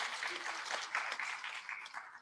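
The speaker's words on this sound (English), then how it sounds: "Can we clap for our fallen mothers?" Audience clapping at an International Women's Day celebration at the Kenya School of Government in Nairobi, a fairly quiet, steady patter of many hands that continues for a couple of seconds.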